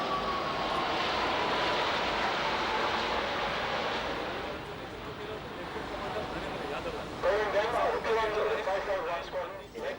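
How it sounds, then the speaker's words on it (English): Kiran jet fighter trainer aircraft fly past at the 2001 International Fleet Review, a broad, steady engine roar that dips slightly midway and then swells again, with voices audible alongside. "these are the Kirans, the jet fighter trainers"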